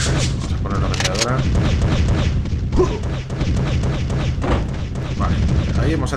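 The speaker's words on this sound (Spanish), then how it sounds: "Vamos a poner la ametralladora." A machine gun fires in Powerslave Exhumed, dense rapid bursts and heavy booming impacts that continue steadily throughout, loud and close, with someone talking over the shooting.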